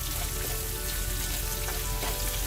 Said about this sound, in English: increase your heat and salt your onions a little so that they sweat and they brown quicker